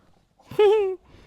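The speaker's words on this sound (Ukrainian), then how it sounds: "У мене тут граються собаки мої." A single dog vocalization, a drawn-out whine or yelp lasting about half a second, close and fairly loud, from dogs playing indoors, with quiet room noise before and after.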